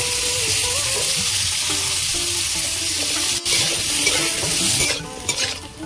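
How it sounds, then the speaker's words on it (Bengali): Potatoes fry in oil in a kadai with a loud, steady sizzle, punctuated by scraping stirs of a spatula against the pan, close and continuous without speech. "এবার আমি আলুগুলো ভেজে নেব।"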